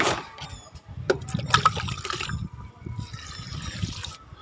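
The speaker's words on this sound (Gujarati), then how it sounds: "જો અહીં ડોલ ભરાય છે" Water running from a bathroom tap into a bucket, a steady splashing fill with brief louder knocks and clatter near the start, heard close with no speech.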